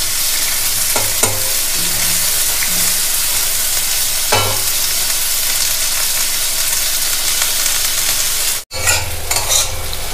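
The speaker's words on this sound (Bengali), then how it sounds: "উচ্ছেটা তো ভালো করে ভেজে নিয়েছি, সেই জন্য আলুটা এমনিভাবে ভাজা হলেই চলবে।" Potatoes for a bitter gourd and potato dish fry in a pan with a steady sizzle, while a spatula scrapes and stirs in a few brief knocks.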